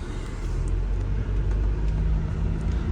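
A VW Passat Alltrack with DSG gearbox and 4Motion drive on a test drive: steady, loud low engine and road rumble from inside the car, continuous throughout with no talking.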